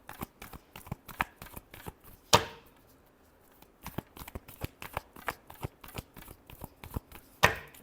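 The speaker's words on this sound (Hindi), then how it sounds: "Last shuffle." Tarot cards being shuffled by hand in quick, crisp riffles and taps, with two louder sharp snaps of the deck standing out, all close and dry with no voices.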